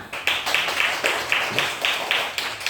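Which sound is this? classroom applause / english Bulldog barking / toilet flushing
classroom applause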